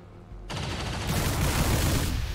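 Gunfire from XCOM 2 erupts abruptly into a dense, sustained rattling volley that grows louder midway, alone with no talk over it.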